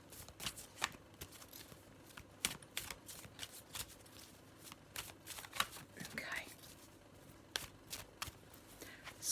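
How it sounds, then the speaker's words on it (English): A black and white Faulkner tarot deck is shuffled close by, soft papery riffles and taps repeating unevenly at low volume. "Let me just have a little shuffle and put down what we have from the black and white Faulkner deck."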